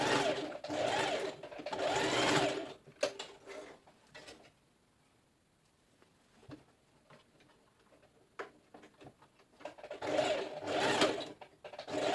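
A sewing machine runs a straight stitch on a DIY halter neck top, with two loud bursts of fast whirring at the start and end and a quieter lull of small clicks and handling between them.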